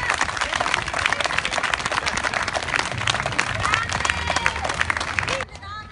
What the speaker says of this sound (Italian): questo mazzo di fiori con un grandissimo e caloroso applauso alla nostra Cecilia